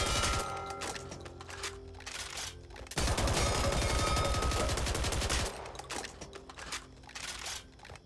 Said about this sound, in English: we have the AA-12, which is a fully automatic shotgun